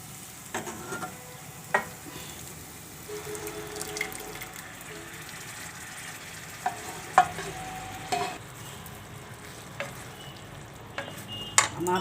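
Cooked spice masala tipped into boiled dal and stirred in a pot, with soft scraping, faint sizzling and occasional sharp clinks of the spoon against the vessel.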